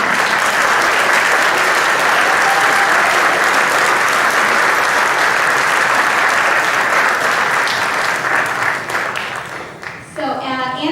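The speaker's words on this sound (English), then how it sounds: "Let's give them a very warm round of applause." Sustained, loud audience applause welcomes debaters onto the stage at a final debate, dense clapping filling the room before thinning out near the end as a voice begins to speak.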